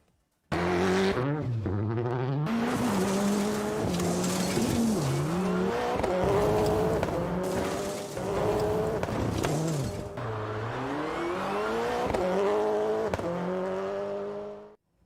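A Toyota GR Supra race car in a GT Cup race drives hard, its engine roaring loud and close as it rises and falls through shifts, with tires squealing in long skids throughout.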